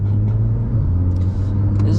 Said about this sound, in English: I'm gonna try driving the car moderately fast, not too fast